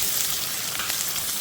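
Shallots and curry leaves frying in sesame oil in a pot, a steady close hiss and crackle of sizzling oil with no voices over it.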